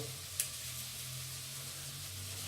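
Onions fry in a pan for pissaladière with a steady, soft, even sizzle throughout, interrupted by one brief faint tick near the start.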